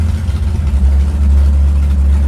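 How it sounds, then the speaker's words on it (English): A 1962 Dodge Dart's 413 Max Wedge engine idles while warming up, with a deep, rumbling, rowdy exhaust burble, steady and close throughout, no voices. "Hopefully you can hear me over the exhaust because it's rowdy."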